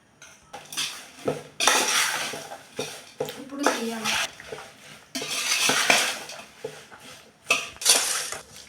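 A metal ladle stirs amla pickle in a pot while hot fried oil is poured in, giving repeated clinks and scrapes of metal on the vessel in uneven bursts, close and fairly loud, with a few coughs or vocal sounds.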